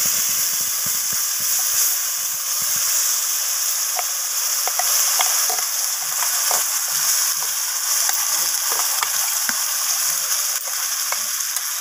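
Spice paste hitting hot oil with whole garam masala, cinnamon and cardamom, a loud continuous hissing sizzle with scattered pops and crackles throughout, close by and alone.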